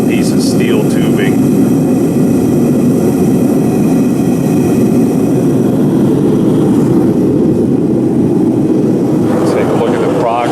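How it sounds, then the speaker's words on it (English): NC Forge Whisper Momma forge burners roaring loud and close, a constant dense rushing blast that holds steady throughout, with a voice speaking over it. "the burners are actually designed for a forge"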